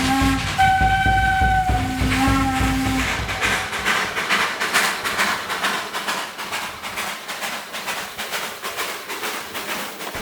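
A train arriving on the railway at São João del Rei, Brazil, opening with sustained whistle tones, then a steady rolling rumble with hiss and rhythmic clatter, fairly close and without talk.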